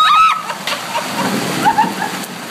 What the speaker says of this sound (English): The hail is literally the size of golf balls.